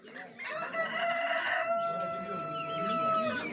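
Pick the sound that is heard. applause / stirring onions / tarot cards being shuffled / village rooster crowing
village rooster crowing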